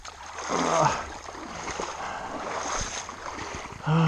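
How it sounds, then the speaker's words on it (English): Splashing from someone wading through knee- to thigh-deep water in a tropical jungle at dusk, a steady sloshing of legs pushing through the water with louder surges near the start and end. "I'm still walking through knee and thigh deep water."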